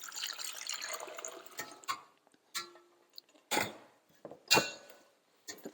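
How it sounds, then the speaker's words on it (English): Liquid from cooked rosella calyxes tipped out of a pot: a pouring splash at the start, followed by scattered drips and short sloshing bursts, close and fairly quiet, with no talk. "So we'll tip the liquid off."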